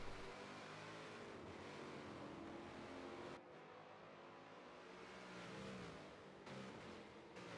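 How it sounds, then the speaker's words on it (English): Twin Chevrolet V8 race car engines roar steadily in a GT racing video game at Spa-Francorchamps, with sustained loud engine drone, brief dips at gear changes or lifts, and no talk over them. "Gotta love the sound of these two Chevys. They're proper V8s."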